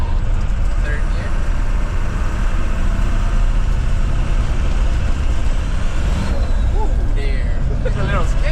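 A 6.0 Powerstroke truck fitted with triple VGT turbos pulls hard through the gears, its diesel engine droning loud and steady throughout with a sharp hiss near the end.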